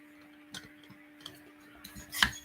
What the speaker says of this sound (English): So you hear a clicking noise.